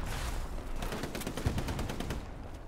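Combat sounds from the World War II tactical shooter Hell Let Loose: a loud, continuous rattle of gunfire with a heavier thump near the middle as a grenade goes off beside a building, and no talk over it.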